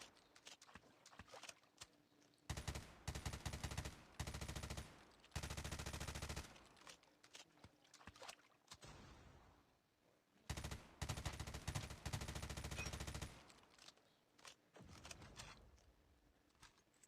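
QQ9 Sigrun submachine gun firing in a video game, loud sustained automatic bursts of a second or two, repeated several times with gaps and softer in-game sounds between.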